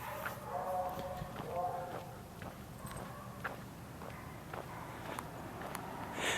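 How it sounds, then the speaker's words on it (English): Horses walking along a road in Leominster, hooves clip-clopping in a loose irregular rhythm at moderate distance, with a dog barking from a kennel next door and someone talking over the outdoor street ambience. "There's the horses."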